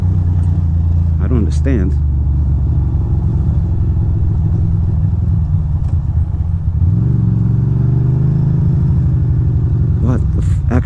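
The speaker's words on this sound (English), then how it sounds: "Why is there so much traffic here?" City road traffic on a run along the FDR Drive and Brooklyn Bridge in New York, a loud constant engine drone with rising revs and passing vehicles, while someone talks over it.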